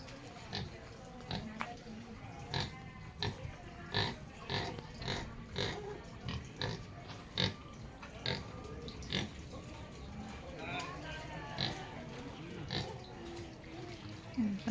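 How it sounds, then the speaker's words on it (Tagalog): A pig on a farm grunts and oinks in short, irregular snorts, moderately close, while a person talks intermittently nearby. "Ito, may baboy pa dito pala ang dade."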